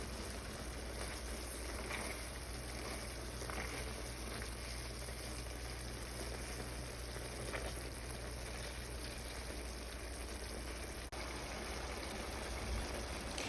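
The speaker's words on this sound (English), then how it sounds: "Then we're going to add a little bit of water and continue to cook it for a few more minutes, mashing as we cook." Tomato and eggplant simmer with added water in a pan while being mashed, giving a steady, soft sizzle and bubbling hiss that runs continuously and quietly, with faint scraping touches and no talk.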